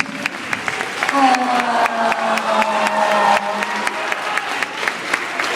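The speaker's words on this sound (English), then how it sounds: "Nice round of applause for Haley." An audience at a high school hypnotist show claps and cheers for a volunteer named Haley, a steady burst of applause with a few sharp claps standing out and a voice carrying over it.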